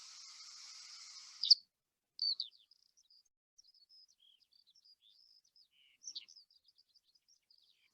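Skylark spring song over winter farmland stubble, a few brief high twittering bursts, faint and somewhat distant, following a short steady high buzz at the start, with quiet gaps between phrases.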